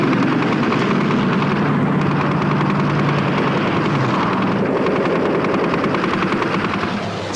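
A Supermarine Spitfire Mk V fighter drones loudly and continuously in a dogfight over Malta, its engine roar mixed with rattling bursts of gunfire throughout.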